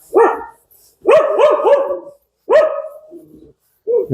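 A dog near a grain warehouse barks at visitors in loud, close bursts: a single bark, then a quick run of three, another bark, and a final short one, with brief quiet gaps between.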